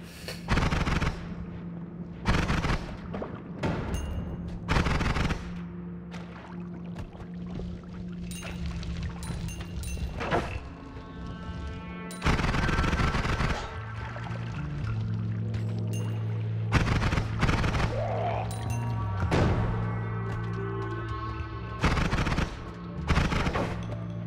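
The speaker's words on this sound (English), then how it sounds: "Now we've got a machine gun." Rapid-fire machine gun wand in the roguelike video game Noita, sharp bursts of shots rattling in dense clusters over a steady droning game score, with louder volleys breaking in repeatedly.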